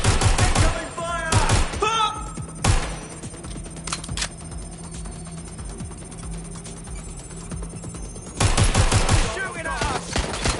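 Gunfire in Watch_Dogs, with bursts of automatic fire at the start and end and scattered single shots between, loud and close above a humming electronic background.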